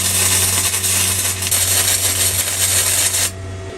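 Tack welding on a part for a 1975 Simson Schwalbe scooter, a close, steady crackling buzz with a low hum that holds for about three seconds and then stops abruptly.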